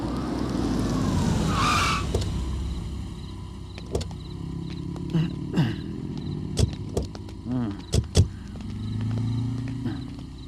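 A police car in a Hindi comedy slows and stops, with a rising engine swell, tire sounds and a series of sharp clunks and door-like knocks toward the end, the vehicle close by.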